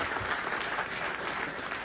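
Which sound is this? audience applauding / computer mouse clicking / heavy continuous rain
audience applauding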